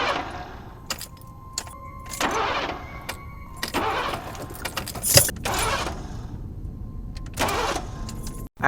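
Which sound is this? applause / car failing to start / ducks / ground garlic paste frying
car failing to start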